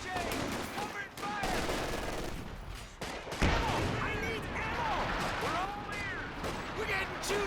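Small arms fire crackles through a Company of Heroes 2 match, dense overlapping bursts with battlefield noise and a sharp louder report partway, running beneath continuous commentary throughout.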